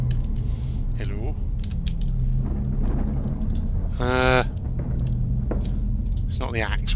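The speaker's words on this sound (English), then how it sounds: "Where was the creaking supposed to be coming from?" Eerie creaking from the video game Eilean Mor: The Lost Keepers: several drawn-out, wavering creaks over a steady ambient hum, one louder groan in the middle and scattered clicks.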